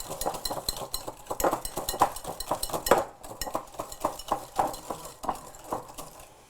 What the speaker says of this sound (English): So I'm just gonna whisk this really thoroughly.